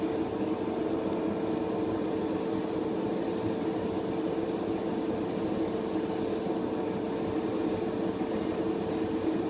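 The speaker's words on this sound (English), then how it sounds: "Trying to keep the airbrush parallel to the piece I'm spraying, just so it's all even coaty." An airbrush sprays Pledge Revive It floor finish as a gloss coat onto a model piece, giving a steady, continuous close hiss that runs unbroken throughout with no talking.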